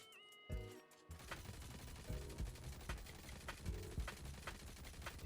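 Rapid gunfire from the Furies III exotic weapon in Destiny: Rising, with a brief reload clatter near the start followed by dense, loud bursts of repeated shots that continue steadily to the end.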